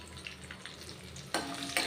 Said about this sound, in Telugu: ఎండుమిర్చి, కొంచెం కరివేపాకు కూడా బాగా క్రిస్పీగా వేగేట్లా మనం వేయించాలి